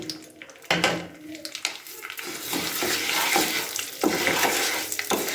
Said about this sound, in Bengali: এই গোবিন্দভোগ চালটাকে আমি এর মধ্যে ভালো করে ফ্রাই করে নিচ্ছি